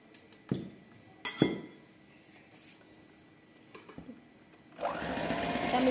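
A few clinks of utensils against a bowl come before an electric hand mixer whirs into action in jackfruit sponge cake batter, its steady hum rising over the last second.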